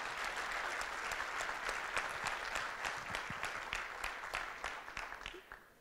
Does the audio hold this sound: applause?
yes